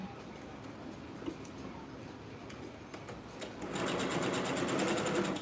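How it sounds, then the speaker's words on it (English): A sewing machine stitches fabric close by, a quarter-inch seam in progress: a rapid, even mechanical ticking that runs steadily and grows louder and faster in the last couple of seconds. "I'm gonna be sewing this on this side."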